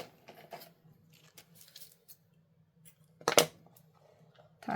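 Scissors snip through string or ribbon meant for hanging a craft bottle, a few faint handling rustles followed by one sharp, close cut near the end.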